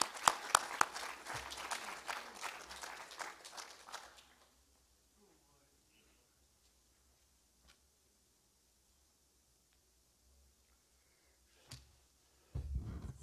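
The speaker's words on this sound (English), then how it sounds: "So please join me in giving a big hand of applause to Sardar Trilochan Singh Ji." Audience applause and clapping for a guest at a public service event on Sikhism, a dense burst for about four seconds that then stops, followed by near silence and a brief rustle.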